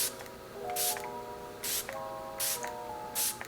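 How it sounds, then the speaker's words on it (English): Four short hissing bursts of a makeup setting spray mist pump, evenly spaced, close and crisp, with a faint squeaky tone from the nozzle between sprays. "That is the nicest mist I've ever had of a setting spray."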